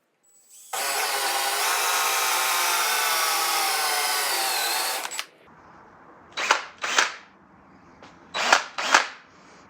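A burnt-out DeWalt power tool, likely a drill, whirs loudly for about four seconds then stops, followed by several short sharp bursts of the tool in quick pairs.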